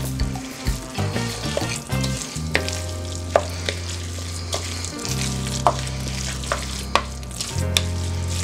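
Guacamole with finely chopped cilantro being stirred together in a bowl, a close, steady wet mashing and scraping with regular spoon knocks and clicks over several seconds, no voices.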